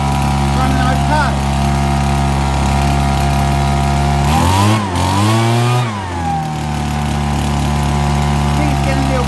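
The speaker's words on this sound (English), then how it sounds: "I've set the carb now. Running okay." A Stihl BG72 two-stroke leaf blower engine runs steadily near the microphone after a carburettor adjustment, a loud droning whine that dips and surges in pitch midway before settling back to an even idle.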